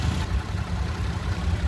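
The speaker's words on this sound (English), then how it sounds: "The ticking sound, kind of like fluttering cards, that's your direct injection." A 2017 Toyota Sienna engine idles in the engine bay with a light, rapid fluttering tick from its direct injection over a low, steady rumble, heard up close.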